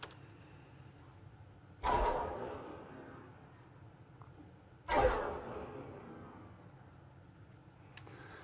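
Sci-fi sweetener layer for a rifle sound built in Unreal Engine, heard as three separate bright bursts that each decay slowly, spaced a few seconds apart over a quiet background.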